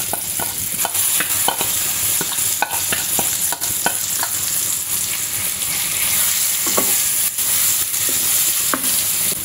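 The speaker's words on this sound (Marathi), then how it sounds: "हलक्या हाताने आपल्याला अशी परतवून घ्यायचे" Stuffed brinjals being stirred with masala in a pan: steady sizzling and frying with repeated scraping strokes of a spoon, close and fairly loud, with no talking.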